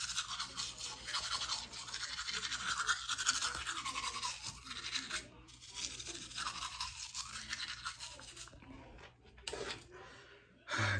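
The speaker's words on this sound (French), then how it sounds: "On y va pour le septième brossage." A person brushes their teeth with a toothbrush, producing close, continuous scrubbing strokes with a wet, bristly texture that pause briefly near the end before resuming.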